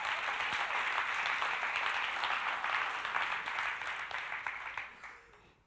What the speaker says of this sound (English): Somebody clap. I dare you.